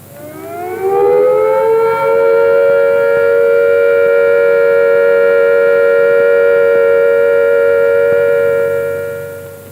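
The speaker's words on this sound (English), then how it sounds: "When the immediate danger of air attack or fallout has passed, the siren will sound a steady note like this." A 1970s British civil defence siren sounding the steady all-clear: a loud, rising wail that settles into one sustained, unwavering tone held for several seconds before tapering off.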